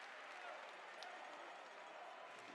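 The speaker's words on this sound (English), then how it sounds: "Applause around the arena." Steady applause fills a handball arena during the Women's EHF EURO 2012 final between Norway and Montenegro, a continuous broad wash of clapping from the crowd, moderately distant and even throughout.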